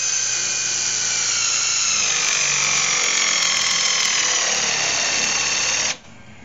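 A cordless drill whirs steadily and close for several seconds while drilling a clamped piece of wood, its pitch rising slightly under load, then cuts off abruptly.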